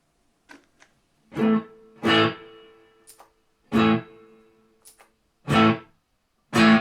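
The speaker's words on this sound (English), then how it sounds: "Now we have some reverb on." Electric guitar chords through a Line 6 Catalyst amplifier with reverb on, strummed in separate bursts, each ringing out with a reverberant tail, plus a few faint picked notes in between.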